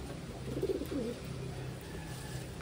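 Taiwan racing pigeons cooing softly at close range, a few low throaty coos bunched together over a steady room murmur.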